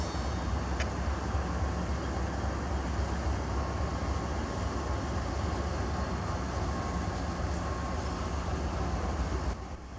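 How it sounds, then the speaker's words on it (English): Freight train L674 rolls into a rail yard with a steady, dense rumble and rail noise that holds constant throughout, with no voices. "conductor threw a few switches and allowed the train to enter the yard"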